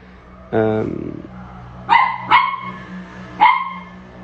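Dogs barking outdoors: a long harsh yelping bark followed by three sharper separate barks, fairly close, over a steady background hum.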